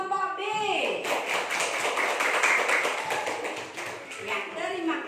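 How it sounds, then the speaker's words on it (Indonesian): Classroom of students clapping for a presenting group, a short burst of brisk applause lasting a few seconds between stretches of voices talking at the start and end. "tepuk tangan untuk kelompok B"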